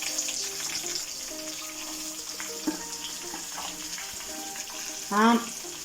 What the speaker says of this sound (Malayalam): ഇനി ഈ സവാള നമുക്ക് നന്നായിട്ട് അങ്ങോട്ട് മൂപ്പിച്ചെടുക്കാം